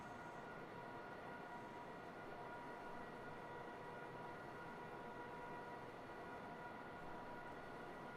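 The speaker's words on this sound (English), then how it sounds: "I believe this is a freight train." Steady rumbling roar of a freight train rolling along the Riesa-Dresden railway line, continuous and fairly even across the whole stretch with no voices.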